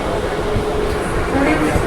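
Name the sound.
riding inside a moving local train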